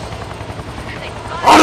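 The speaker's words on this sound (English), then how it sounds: "The helicopter." Helicopter in the video game XIII, a loud rhythmic rotor chop and engine whine that ends with a sudden harsh burst of noise, with speech-like sound mixed in.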